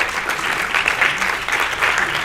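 An audience applauds a sponsor at the closing ceremony of a national programming league, with dense, sustained clapping that swells and recedes slightly in waves.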